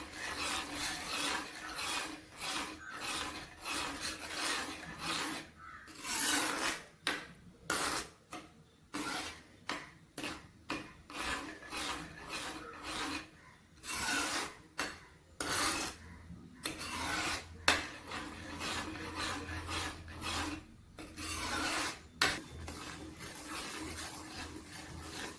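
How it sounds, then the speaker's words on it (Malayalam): Pumpkin payasam with sago is stirred in a pan in repeated scraping, rasping strokes. The rhythm is uneven, with short pauses between bursts, and the sound is close and fairly quiet. "കുറച്ച് സമയം ഒന്ന് യോജിച്ച് ഇളക്കിയെടുക്കണം."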